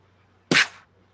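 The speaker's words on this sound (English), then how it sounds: "In the other room, you all hear a gunshot as you're searching around." Single gunshot sound effect in a tabletop role-playing session, one sharp loud crack with a short decaying tail against near silence.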